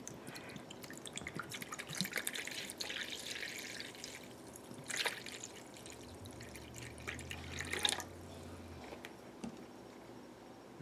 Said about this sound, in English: Go ahead and pour this into the bowl.